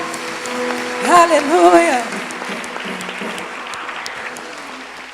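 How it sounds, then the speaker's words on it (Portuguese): A church congregation applauds in praise, with sustained, steady clapping filling the room while a voice calls out briefly over it near the start. "Aplauda ao Senhor."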